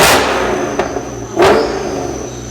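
Mercedes E55 AMG with the supercharged M113K V8 and C63 mufflers, revving loudly outdoors in winter, with a sustained roaring exhaust and a sharp rise in revs partway through.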